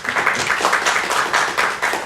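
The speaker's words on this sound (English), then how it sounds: "A round of applause, guys." Applause from an in-house audience at a recorded conversation show, a dense wash of many hands clapping steadily and fairly close for about two seconds with no talk over it.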